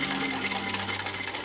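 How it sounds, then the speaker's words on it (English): A sewing machine back stitches a few stitches on fabric for a Christmas stocking ornament, giving a short, steady mechanical whir with a low motor hum that runs close and continuous, with no talking. "I'm going to back stitch just a few stitches there before I go around."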